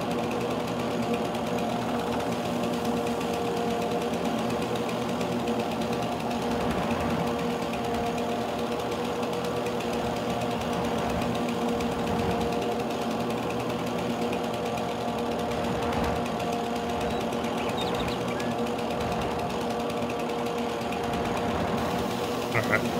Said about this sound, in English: I could use that tractor, the stump grinder,